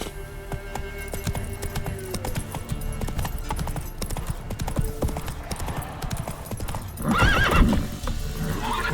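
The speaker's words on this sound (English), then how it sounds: "Run, Roach." Roach, a horse in the video game Witcher 3, gallops with rapid, rhythmic hoofbeats that go on throughout, loud and close, and a whinny rises near the end over the galloping.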